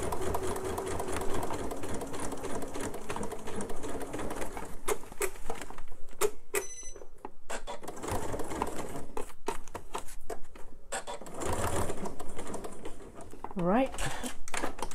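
A sewing machine stitches a purse in quick bursts of rapid mechanical clatter, pausing between runs, while someone talks over and between the stitching.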